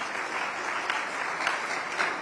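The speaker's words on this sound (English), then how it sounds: "Please, a round of applause for TAF Africa." An audience claps at a town hall on disability issues in Nigeria, a steady, moderately soft wash of applause with no speech.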